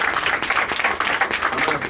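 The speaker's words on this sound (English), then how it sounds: "Please give him a round of applause." An audience applauds a newly introduced chairman at a reparations event, with thick, continuous clapping from a crowd that stays loud and even throughout.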